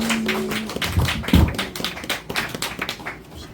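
A comedy club audience claps for stand-up comedian Ronnie Lee as he takes the stage. The clapping is fairly thin and scattered, with a stronger burst of claps near the middle that then tapers off.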